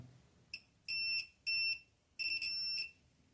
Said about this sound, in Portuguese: a partir do momento que você encostar nelas, ele vai bipar como um multímetro convencional